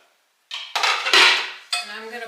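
Sliced apples tumbling into a skillet on the stove, several quick clattering knocks and thuds of fruit against the pan in close succession, close and fairly loud, with no talking.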